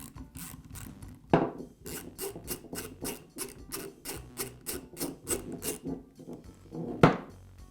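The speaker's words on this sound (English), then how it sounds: "use an Allen wrench to remove the expansion screw" An Allen wrench backs an expansion screw out of a Porter Cable router's armature shaft, with a socket holding the shaft still during a bearing repair. A steady series of close, dry rasping clicks and scrapes is broken by two louder grinding jolts.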